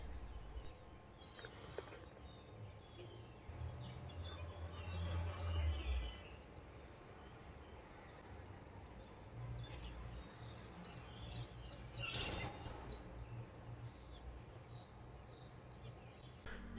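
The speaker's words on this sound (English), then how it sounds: "listening to the sound of the seagulls and swallows flying by" Faint high chirps and calls of swallows and seagulls drift in and out, with a brief louder burst of twittering, over quiet outdoor ambience on a terrace in Istria, Croatia.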